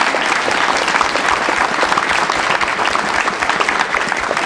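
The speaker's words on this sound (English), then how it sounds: "How about one more big hand for all of our honorees tonight?" An audience at a school board of education evening gathering gives a big round of applause for honorees, dense continuous clapping filling the room at a steady loud level from start to finish.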